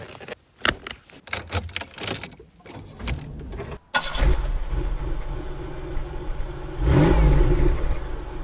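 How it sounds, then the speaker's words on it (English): A Buick Regal's engine starts with a quick burst, following jangling keys and interior handling noises, then settles into a steady, smooth idle. "As soon as you touch the key, boom, it's running."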